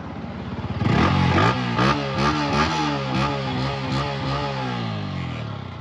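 A Yamaha MT-15 V3 motorcycle engine starts and runs close by, blipped through several quick revs that rise and fall in pitch before settling back toward a steady idle, loud and alone.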